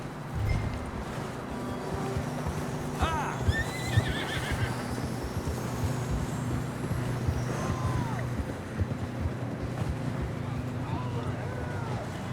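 Horses whinny and snort over steady clip-clopping hooves and a low rumbling background, with shouted voices now and then, in the video game Red Dead Redemption 2.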